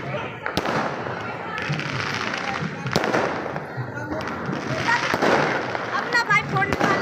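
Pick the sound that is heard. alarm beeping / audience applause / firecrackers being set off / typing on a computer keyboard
firecrackers being set off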